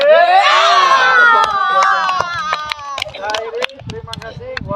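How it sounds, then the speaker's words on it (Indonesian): Students' rhythmic PE clapping chant, tepuk penjas, at a school athletics lesson: loud group shouting of children's voices with sharp claps punctuating it, shifting toward scattered clapping and chatter near the end. "Kita akhiri dengan tepuk penjas."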